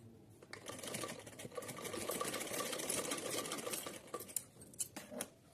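Sewing machine stitching two fabric strips together for a small summer outfit for a Laddu Gopal idol, a close, steady mechanical whir that builds and runs continuously, ending in a few clicks and light knocks.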